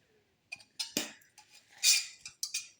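A utensil stirs a mixture in a bowl with a series of short, quiet clinks and scrapes at an irregular rhythm, close by, with no speech over them.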